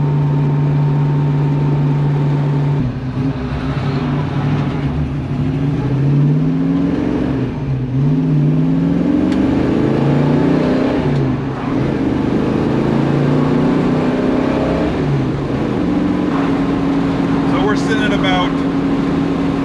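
A car engine hums steadily at 60 mph, about 2,600 RPM, with 3.55 rear gears and a limited-slip differential, road and wind noise, a low drone running throughout with slight shifts in pitch.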